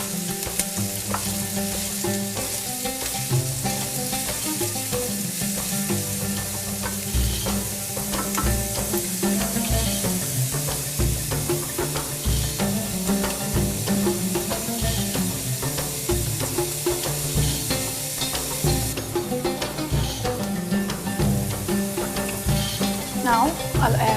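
Chopped onion sautés in a pan, a dense, continuous sizzle and crackle held close and fairly loud, with intermittent stirring scrapes and some voices underneath.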